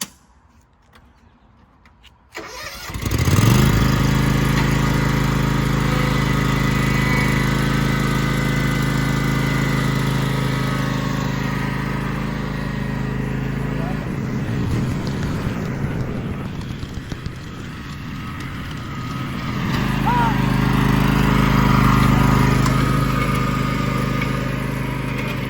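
A John Deere lawn tractor engine runs steadily and close by while it tows a restored utility trailer, a loud continuous drone that starts abruptly after a quiet moment, dips briefly midway and then swells again.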